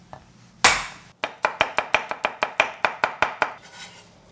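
A single garlic clove being chopped on a cutting board, with one heavy knock followed by a quick, even run of about a dozen crisp knife strikes, close and clear with no talking.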